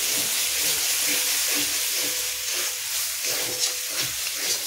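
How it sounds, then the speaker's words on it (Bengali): Spice paste of turmeric and Kashmiri chili powder frying in oil for a chickpea curry, a steady bright hissing sizzle with soft stirring scrapes, close and continuous, no voices. "মশলাটা তেলে দিয়ে মশলাটা কষিয়ে নিচ্ছি"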